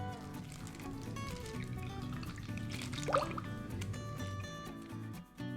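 Creamy milk ice pop base, 100 ml at a time, pours into small plastic bags with close, soft liquid gurgles and drips, and a brief louder splash partway through.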